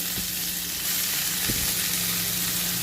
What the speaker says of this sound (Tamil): வெங்காயத்தை போட்டுட்டு அடுத்து பச்சை மிளகா போடுவேன். அப்படி எவ்வளோதான். அப்படியே கீரையை போடுவேன்.